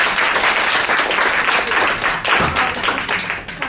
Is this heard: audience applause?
yes